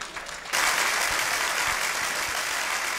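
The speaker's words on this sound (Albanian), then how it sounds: "e mirëpresim me një duartrokitje tekst shkruesin Lulash Brigja" An audience at a live concert recital bursts into applause after a short quiet moment, then keeps up dense, sustained clapping that fills the room until the end.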